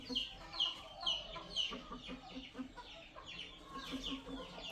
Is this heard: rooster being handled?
yes